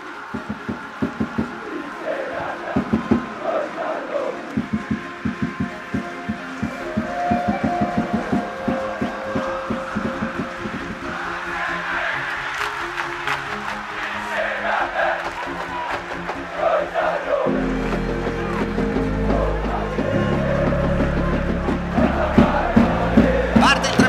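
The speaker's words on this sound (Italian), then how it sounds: "Che energia oggi al Tardini, senti i tifosi" Football crowd at the Tardini stadium during a Parma match, a dense roar of fans chanting and cheering that swells and surges throughout, with rhythmic shouts and a broadcast voice occasionally over the din.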